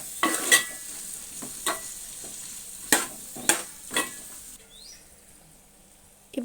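Spoon stirring turmeric through chicken curry frying in a pan for a mango chicken dish, a few scraping clatters over a low sizzle, close and fairly quiet, no talking.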